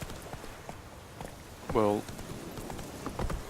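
The horse Roach trots along in The Witcher 3, a soft, steady run of hoof clip-clops beneath game music, with someone speaking briefly over it.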